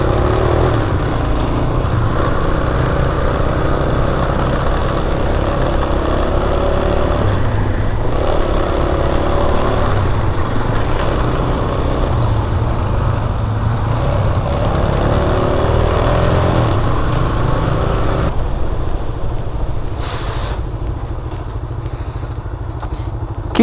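A new motorcycle engine drones loudly and steadily nearby, holding a sustained throaty note with slight shifts in pitch, then thinning out near the end.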